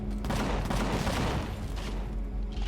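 Sentry gun turrets fire continuously in a video game, a dense, steady barrage of rapid shots that fills the whole stretch at a constant loud level with no talk.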